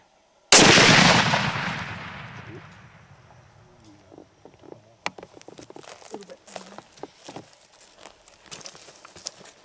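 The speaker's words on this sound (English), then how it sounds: "Just shoot him sort of center of his back." A single loud rifle shot fired at an elephant on a hunt in Zambia, with a long booming decay, followed by rustling, footsteps and scattered movement noises nearby.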